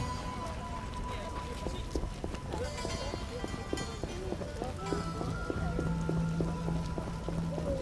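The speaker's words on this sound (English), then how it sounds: "What a downpour!" Heavy rain pours down in The Witcher video game, a dense steady hiss with scattered drops and rhythmic clip-clop steps on top, mid-level and continuous with no voices.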